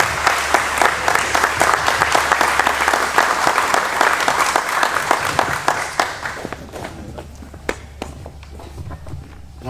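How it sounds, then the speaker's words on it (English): An audience at a fundraiser presentation gives a round of applause for a man called up to the front: dense clapping that thins out after about six seconds into a few scattered, isolated claps. "Let's give him a round of applause."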